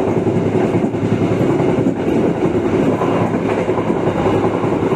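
A train runs straight through Poharan station on a newly doubled Mojokerto line without stopping, giving a steady, loud, continuous rumble with wheel-on-rail clatter throughout.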